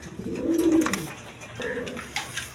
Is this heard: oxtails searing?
no